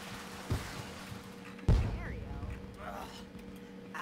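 Fireworks go off in The Sims life-simulation game, two sharp booms about a second apart, the second louder, followed by fainter crackling and whistling under a quiet background.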